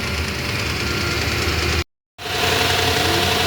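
A Lexus 3UR V8 engine, freshly overhauled, runs steadily at idle on its first start, with a constant mechanical drone and valve-lifter ticking. The sound cuts out for a moment, then resumes at the same level.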